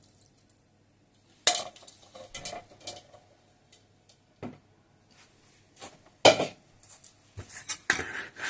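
A whisk works through a yeast mixture in a bowl, giving close, intermittent clinks and scraping bursts separated by short pauses, with no talking.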